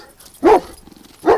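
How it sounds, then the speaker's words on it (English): Doug, a hyped-up hunting dog out in the winter bush on a duck hunt, lets out two sharp, loud barks close by with a brief whine between them. "He just got back in the bush barking his head off."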